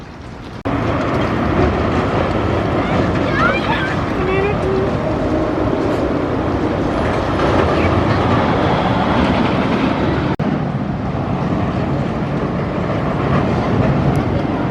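A ride aboard the Six Flags Railroad train makes a loud, continuous rumbling roar of wheels and carriages on the track, steady throughout with faint squeals, while a person talks over the noise.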